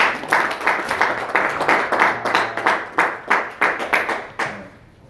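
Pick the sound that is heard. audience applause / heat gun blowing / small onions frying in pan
audience applause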